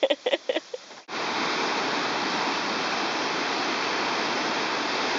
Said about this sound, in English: The desert meets the ocean.